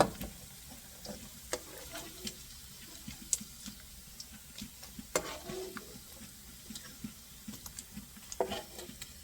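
Sesame oil sizzles in a pan while pancit canton is fried. A quiet, continuous hiss runs throughout, broken by scattered light clicks and taps from stirring, with no talking.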